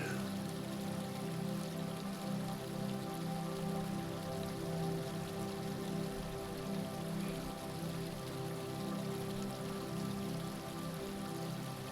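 A gently flowing stream gives a soft, even wash of trickling water that runs without pause, quiet and close, beneath a steady sustained tonal drone.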